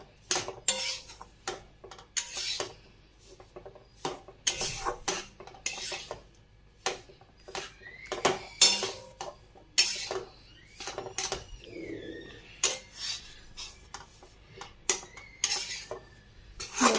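Besan being roasted in ghee in a pan for besan ladoo, stirred with a metal spoon that scrapes and clinks against the pan in steady repeated strokes throughout, close and clear, with no talking.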